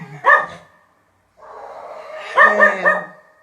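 A dog barks nearby indoors, one sharp bark, then a pause, then a whining growl that builds into a quick run of loud barks.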